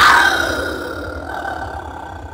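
A clay ocarina imitating a jaguar gives a rough, breathy growl, loud at first and trailing off into a raspy fade, heard alone and close.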